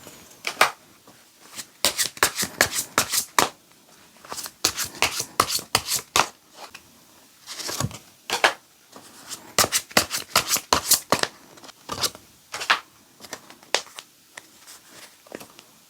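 Tarot cards are shuffled close by in repeated bursts of crisp, riffling flutter, each run lasting a second or two with short pauses between, and no voices.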